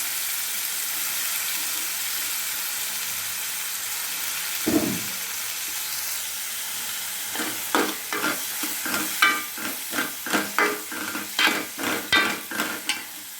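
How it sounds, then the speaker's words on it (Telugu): Prawns frying in a pan give a steady close sizzle; a brief thump comes near five seconds, then a run of sharp stirring scrapes and clinks keeps a quickening rhythm over the hiss, with no voices. "ఇందులోకి రొయ్యలు యాడ్ చేసుకొని కొద్దిగా పచ్చివాసన పోయే వరకు ఫ్రై చేసుకోవాలి"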